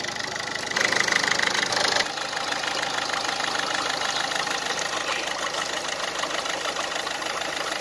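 Diesel engine of a Ford Figo idling with an oil-consumption fault, a steady close mechanical knocking rumble that runs the whole time with no talk.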